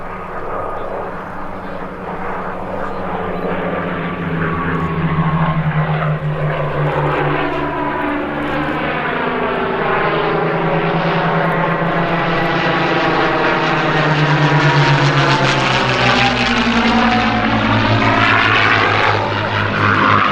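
A Spanish-built Messerschmitt 109 propeller fighter flies past at an airshow, its loud piston engine droning steadily with a rising and falling pitch sweep as it passes, continuous throughout.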